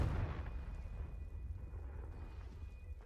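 A Confringo fire spell in Hogwarts Legacy: a deep booming blast at the start that fades into a low rumbling tail, fairly faint overall.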